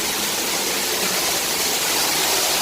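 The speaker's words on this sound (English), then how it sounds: "Ayan, may waterfalls na dito" A small outdoor waterfall gives a steady, loud, broadband rush of falling water that fills the whole stretch without pause, with no voices standing out.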